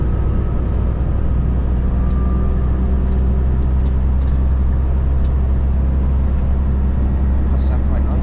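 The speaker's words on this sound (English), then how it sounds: "you can hear a bit more of the engine of the Citaro" A Mercedes-Benz Citaro bus engine runs with a steady, loud low rumble and a faint whine throughout, heard from on board, with no breaks or talk.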